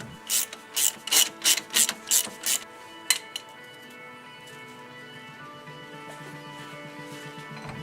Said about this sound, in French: Retirez l'écrou de la rotule de direction à l'aide d'une douille de 16 et de son cliquet.